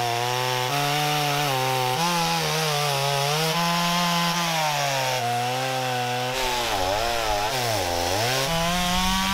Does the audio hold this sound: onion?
no